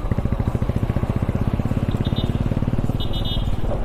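Motorcycle ride through Mumbai, a steady close engine drone with rapid regular pulsing throughout and faint background voices.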